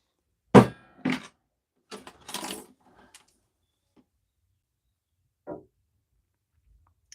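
A few sharp knocks and thuds of a hammer beating a metal rod in a loose sequence, then quiet, with a single later strike; close and fairly loud.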